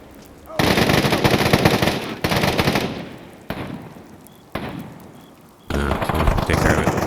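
Rapid automatic gunfire in the VR game Fallout 4, loud sustained bursts separated by brief gaps, a combat exchange with a voice faintly underneath.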